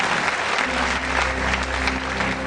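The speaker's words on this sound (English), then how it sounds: "A round of applause for yourselves." Audience applause fills a university matriculation ceremony at the University of Benin, a dense, steady wash of clapping from a large crowd with a low hum underneath, holding loud and even throughout.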